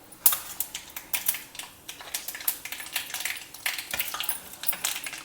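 Mustard seeds and urad dal splutter in hot oil in a pan, giving a close run of sharp irregular pops and crackles that keeps going throughout with no voices.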